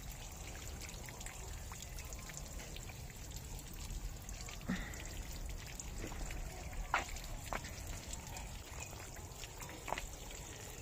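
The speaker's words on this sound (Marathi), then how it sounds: "ठिबक मधून असं पाणी देतात. पाणी चालू केलेलं आहे." Water from drip irrigation lines trickling in a grape vineyard, a faint steady dribble with scattered small drips and splashes, while a voice speaks softly in the background.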